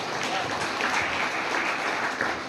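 A congregation claps during a Sunday evening church service, a steady wash of many hands clapping at a moderate level for a couple of seconds, with voices mixed in.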